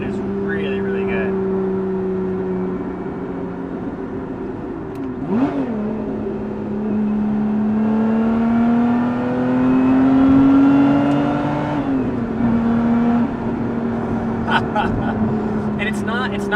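A Lotus Emira with a full titanium exhaust idles low, then revs up into a rising, throaty exhaust roar as the valves open before settling back, with a few sharp crackles near the end.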